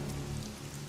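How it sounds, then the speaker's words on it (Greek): Rain falls steadily over a city at night, a dense, even hiss with no pauses or voices. "Ο μόνος ήχος που ακούγεται είναι το βουητό της βροχής."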